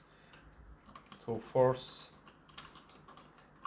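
Buttons pressed on a DSC PK5500 alarm keypad give a short burst of clicks and a brief beep near the middle, close and fairly loud, with a voice talking around them.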